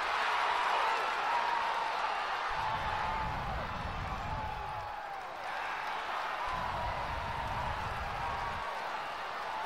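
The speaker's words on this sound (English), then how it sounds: "this is a great opening day crowd" Stadium crowd applauding and cheering in the racing video game Cars Mater-National Championship, a steady wash of broad crowd noise with two low rumbling swells, continuous throughout.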